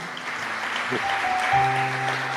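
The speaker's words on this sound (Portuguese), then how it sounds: "Salva de palmas para o Senhor nessa manhã." Applause from a church congregation at a morning service fills the space, steady and moderately loud, with some musical tones sustained underneath.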